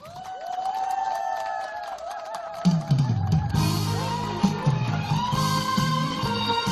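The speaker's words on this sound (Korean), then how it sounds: "박수로 환영해 주세요." Audience applause and cheering welcome a singer onto the stage at a weekend opening celebration concert at Samgang Jumak tavern in Yecheon, with music starting beneath the sustained clapping.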